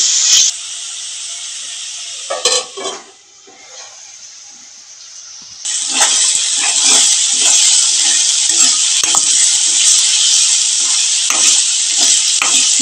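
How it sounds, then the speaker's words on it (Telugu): Onions and tomatoes sizzle and fry in a pan for a brinjal and dry fish curry, with a loud steady hiss, a brief quieter spell partway through, and repeated scraping stirs and clinks of a spoon against the pan. "ఉల్లిపాయలు టమాటా వేగిపోయిందండి."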